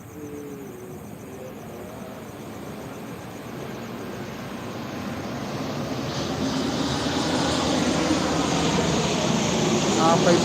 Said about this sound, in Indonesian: Tuh, ada suara pesawat.